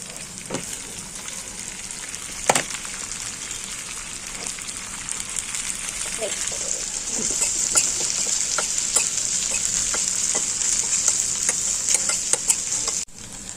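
Okra masala frying in a pan, a steady bright sizzle that grows slightly louder midway, dotted with small ticks and pops from stirring and spattering oil.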